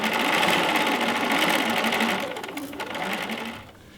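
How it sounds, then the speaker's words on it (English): Close, continuous whir of a sewing machine stitching a Riley Blake pillow closed, running steadily, then slowing and tapering off at the end, with no voices. "we're gonna stitch this closed"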